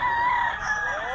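A fighting rooster gives a close, drawn-out crow that rises and holds before tailing off, loud and clear over faint background noise.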